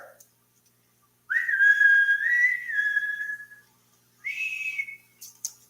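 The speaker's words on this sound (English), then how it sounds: "Damn whistle." A sustained whistle sounds loud and close in a quiet room, one long wavering tone for over two seconds, then a shorter second burst and a brief chirp, with no talking.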